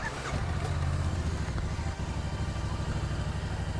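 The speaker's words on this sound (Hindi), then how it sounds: "तब तक थोड़ी बाइक को भी दे देते कोल्ड स्टार्ट" Motorcycle engine idling steadily just after a cold start, a close, continuous low throb with a fairly even rhythm and no voices, ahead of a summer ride out of Delhi.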